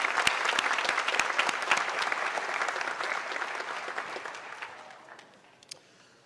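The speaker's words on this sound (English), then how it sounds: "so please give him another round of applause" A crowd at a university opening convocation gives dense, sustained applause that fills the room, then thins and fades toward the end, with only scattered claps and faint voices left.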